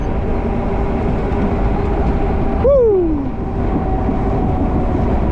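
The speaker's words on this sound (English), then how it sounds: "We caught the train. We're faster than the train." A train rumbles steadily alongside, heard from a fast-moving electric bike, with a brief gliding whistle or tone partway through and a voice whooping over the continuous roar.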